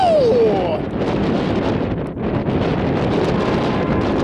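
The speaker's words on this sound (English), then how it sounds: "not only is it really windy" Steady, heavy wind buffets the microphone with a constant low rumble and roar throughout, briefly easing midway.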